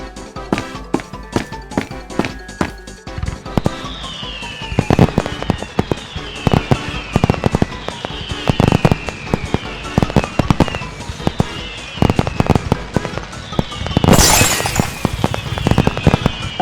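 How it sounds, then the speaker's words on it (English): Fireworks bursting in the backyard of the video game Grounded, a rapid series of sharp crackling pops and whistling launches, with one loud burst late on, no talk over them. "I just heard fireworks outside."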